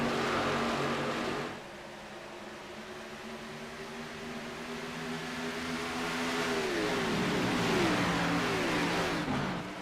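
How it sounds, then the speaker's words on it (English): A race car engine in the iRacing game, on a Nashville oval, drones steadily, then climbs in pitch as it accelerates, with a dip and a rising whine near the end, loud and continuous with no talk. "here comes Locatis, dive to the inside of the 9 machine, using his fresh tires while he can."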